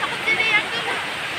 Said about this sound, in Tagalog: Ilog pa rin siya, second river na tinawid namin.